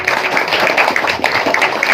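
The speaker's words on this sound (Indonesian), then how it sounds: "Ya, tepuk tangan untuk dari Bojonegoro" Audience applause for Sufi dancers from Bojonegoro at a large religious gathering, a steady dense patter of many hands clapping, loud and continuous throughout.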